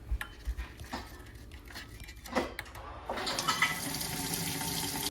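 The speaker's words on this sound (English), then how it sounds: "You're going to rinse your black beans." Running water from a kitchen tap splashes as canned black beans are rinsed, starting with a few knocks and clatters before a steady rushing stream takes over.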